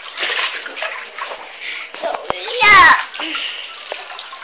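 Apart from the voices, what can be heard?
splashing water as a child goes under in a pool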